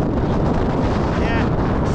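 Strong wind buffets the microphone on an exposed gritstone edge in the Peak District, a constant loud roar with gusting rumble throughout.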